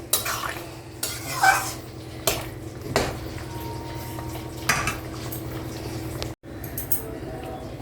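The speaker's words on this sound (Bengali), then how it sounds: "এবার আমি নাড়াচাড়া করে নামিয়ে দেবো।" Soyabean, papaya and potato curry finished with a spoonful of ghee being stirred in a pan, with a steady soft sizzle beneath repeated scraping and clinks of a metal spoon against the pan.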